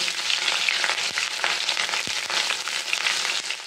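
Garlic and chopped green chillies sizzle steadily in hot oil with cumin, a dense continuous frying hiss broken by occasional soft scrapes as the pan is stirred, close and fairly loud with no talking.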